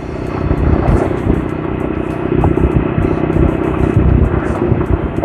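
An Apache motorcycle cruising in fifth gear at about 47 km/h, a loud continuous engine rumble mixed with rushing wind buffeting, steady throughout with no speech.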